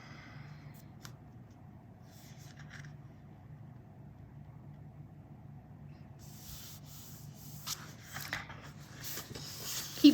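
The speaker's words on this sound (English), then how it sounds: "Keep stroking the paper because it's so smooth." A hand strokes the smooth paper pages of a Disney maps colouring book, producing a soft, continuous rubbing hiss, close and quiet, with a few louder brushes and page movements near the end.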